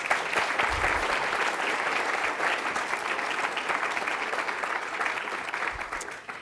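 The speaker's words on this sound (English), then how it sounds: "One more round of applause, please." Audience applause at a Churchill Club business talk, a loud, sustained wash of many hands clapping that stays steady for over six seconds before tapering slightly at the end.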